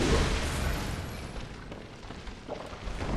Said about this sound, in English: Alright, he's going to do an explosion of vomit.